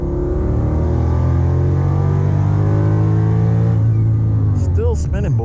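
A Dodge Hellcat fitted with a 30-year-old transmission spins its wheels in second gear on a worn track, its engine holding a loud, steady, heavily harmonic roar before easing off, with voices breaking in near the end.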